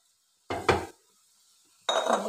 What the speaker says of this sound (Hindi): अब हम इसमें डाल देंगे क्या, चिकन